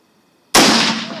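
A gunshot from a rapid-cycling gun, a single sudden loud blast with a short trailing decay, close up and on its own.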